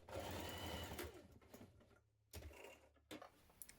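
Sewing machine stitching a seam across a jacket placket, a fast mechanical whirring run that stops and restarts in short bursts, fairly faint and heard without talk.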